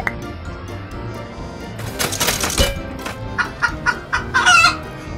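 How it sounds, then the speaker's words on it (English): A chicken clucks in quick, choppy bursts, loud and close, with a short crow-like squawk between the clucks. "What sort of animal makes that cluck sound? Oh yeah, it's a chicken."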